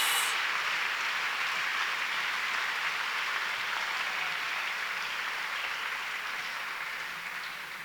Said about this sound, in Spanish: Dele un aplauso mejor.